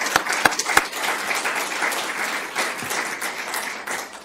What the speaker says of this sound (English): thank you for holding your applause until now